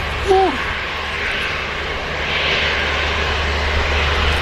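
An EasyJet airliner arriving from Pisa rumbles steadily after touching down at Manchester Airport, a sustained mid-distance engine roar that swells slightly, with a brief chirp near the start.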